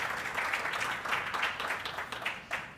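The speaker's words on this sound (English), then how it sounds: "please give William and Adiolu another round of applause for us" An audience applauding at a leadership summit, with a continuous, fairly faint wash of many hands clapping in a large room and no talking.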